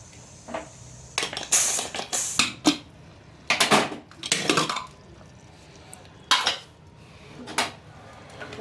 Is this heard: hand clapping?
no